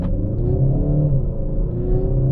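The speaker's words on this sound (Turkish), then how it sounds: "Yol müsait ve dip gaz yapıyorum şu an." 2021 Kia Sportage 1.6 diesel with automatic DCT gearbox accelerating at full throttle on the road, a steady loud low engine drone with rising harmonics heard from inside the cabin, no talk.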